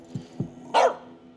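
A dog gives two soft, low woofs and then one sharper, louder bark, all close by and brief.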